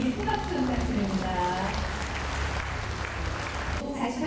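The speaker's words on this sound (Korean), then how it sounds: "우리 박시현 학생에게 큰 박수 부탁드립니다" An audience at a ceremony applauds a student receiving an award, a dense wash of clapping that runs throughout, partly under a speaking voice near the start.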